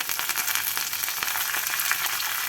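Peanuts, a couple of dry red chillies and curry leaves fry in hot oil, giving a steady dense crackling sizzle with frequent small pops, close and continuous with no voices.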